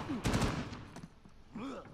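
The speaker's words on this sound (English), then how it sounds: "I just fired a bullet." A gunshot cracks in an Uncharted 4 pirate-colony multiplayer match. A sharp burst is followed by a fainter shot, and a voice talks briefly before and after.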